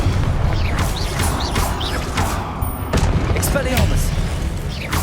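Blasting-spell explosions in the Hogwarts Legacy game, loud repeated booms and crashes layered over a dense combat soundscape, with spoken spell incantations over them.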